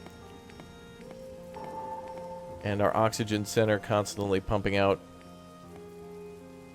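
Steady rain in the post-apocalyptic survival city-building game Oxygen hisses softly and constantly in the background while someone talks over it.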